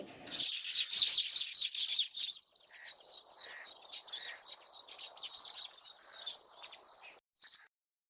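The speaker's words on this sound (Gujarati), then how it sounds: "આપણે સુગરીનો અવાજ સાંભળીએ" A baya weaver bird gives a continuous high, buzzy, chattering call that runs for several seconds, closely recorded and heard alone, before a brief final burst.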